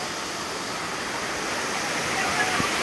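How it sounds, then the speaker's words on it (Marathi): Panjare waterfall near Bhandardara in the monsoon pours as a broad, steady roar of rushing water, even and unbroken throughout, with faint voices of people nearby mixed into the noise. "तिथे बघा हा धबधबा आहे"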